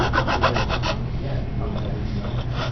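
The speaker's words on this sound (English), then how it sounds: "Why are you filing it there?" A file rasping against a soft plastic-like modelling material during lamp assembly, steady close scraping strokes with a quick rhythmic burst at the start that settles into continuous rubbing.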